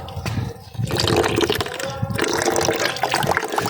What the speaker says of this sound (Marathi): पाणी येऊ जवळ आलं येऊ लागलं हे बघा